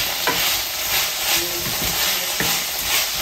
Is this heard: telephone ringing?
no